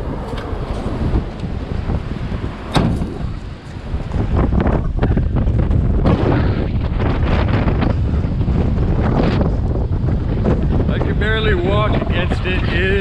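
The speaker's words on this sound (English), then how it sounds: "I have never seen it this windy in this town." Strong wind of 60 to 70 miles an hour buffets the microphone in heavy, uneven gusts, with a loud roaring rush throughout and a few scattered knocks, and a voice heard briefly amid the noise.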